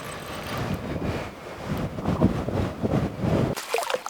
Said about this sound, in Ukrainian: Ох і вітерець холодний такий.